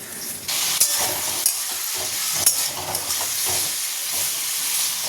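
Snake gourd sizzles steadily as it fries in a pan, a continuous close hiss broken by a few sharp clicks and scrapes from stirring.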